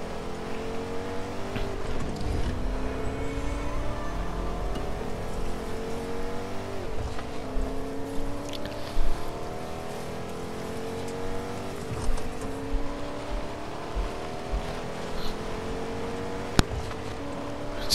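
A vehicle driving in Fortnite, its engine droning and rising steadily in pitch through repeated gear changes, close and continuous with no talking.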